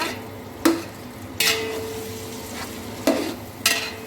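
Ginger garlic paste and a bunch of mint frying in a pan for egg biryani, with four distinct spoon scrapes over a low, steady sizzle.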